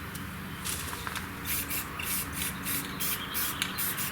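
A spray can of rust protection coating hisses in repeated short bursts onto a car's core support, close by, with a faint rattle and handling noises between sprays.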